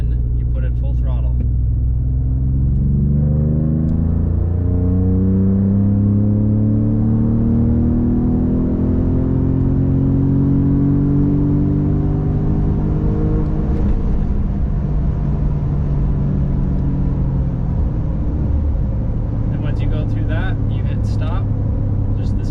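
Ford Raptor pickup in 4th gear, manual mode, accelerating at full throttle from just under 2,500 rpm, a loud, steadily rising engine roar that climbs in pitch over about twenty seconds before easing off near the end.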